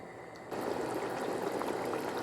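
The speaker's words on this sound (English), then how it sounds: "Okay, that's now bubbling away." Steady bubbling and gurgling of lamb bhuna curry simmering in a pot, starting quieter then rising to a continuous close, busy boil.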